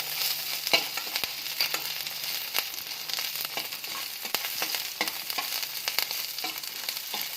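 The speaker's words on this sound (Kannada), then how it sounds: "ನೋಡಿ ಫ್ರೈ ಆಗ್ತಾ ಇದ್ದಾವೆ" Dried red chillies frying in a pan for onion chutney, a constant crackling sizzle with scattered clicks and light stirring scrapes, close and moderately quiet throughout.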